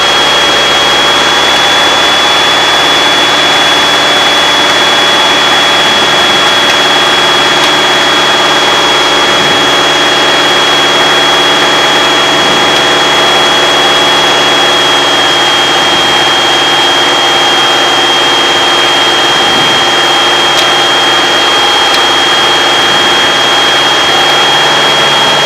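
A Piper PA-28 single-engine airplane drones steadily in flight from inside the cockpit, a constant loud engine roar with a faint steady tone above it and no talk.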